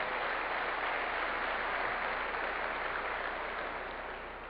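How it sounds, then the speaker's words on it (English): An audience at a corporate meeting claps together, a steady wash of applause that holds evenly and slowly fades toward the end, with no voices over it. "Please applaud if you were not a part of EMC 3 years ago."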